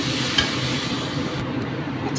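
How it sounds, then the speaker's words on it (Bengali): Spice masala with kasuri methi fries in a pan, producing a short, steady sizzle with soft stirring scrapes and no talk. "এটা কষতে কষতে একটু কষাবো, একদম মশলা কষে গেছে"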